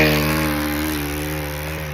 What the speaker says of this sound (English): Sorry about the noise. There's a weed whacker there.